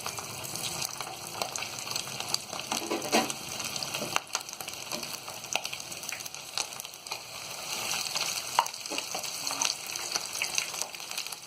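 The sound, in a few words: chicken drumsticks frying in hot oil in a wok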